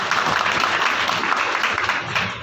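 An audience at a Tamil public lecture bursts into dense, sustained applause, loud and close, filling the room without pause for a couple of seconds.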